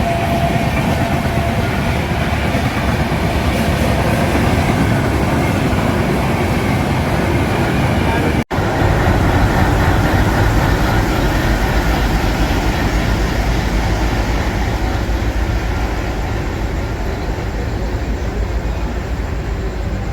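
The Amritsar Mail passenger train, number 13005, runs steadily toward Ambala Cantonment in Haryana, giving a constant loud rumble and rattle of carriages over the rails, with one sharp click partway through and no voices.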